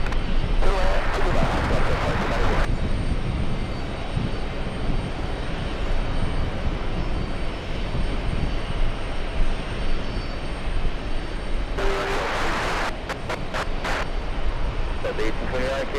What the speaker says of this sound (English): we have 767 flying in from Venice